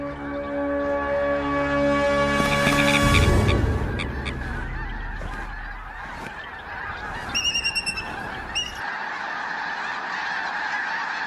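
Snow geese honking in a loose chorus as they take off on spring migration, loud and near at first, then thinning out to scattered calls over steady background noise.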